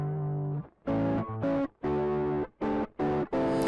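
Electric guitar through the Mod Plus setting of a Keeley Tone Workstation pedal, a tame, lightly driven modulated tone playing short chords and riffs with brief gaps between phrases, close and clear with no talking.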